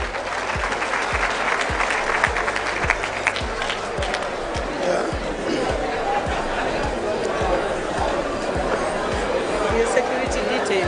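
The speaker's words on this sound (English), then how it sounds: "Let's give them a round of applause" Loud audience applause fills a hall at a Rotary district conference, a steady wash of clapping with crowd chatter and a voice talking over it throughout.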